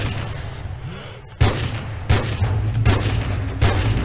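Gunfire in Call of Duty 4: Modern Warfare, a handful of loud, close shots and bursts spaced irregularly over a low rumbling background, with a player talking.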